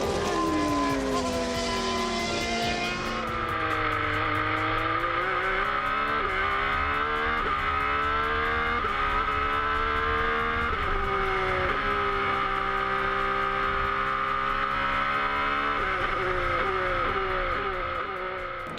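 A Formula One race car, a 1994 chassis with its original engine, runs at the Adelaide Motorsport Festival, its high-pitched engine screaming loud and close as it revs and shifts up through gears in repeated rising sweeps.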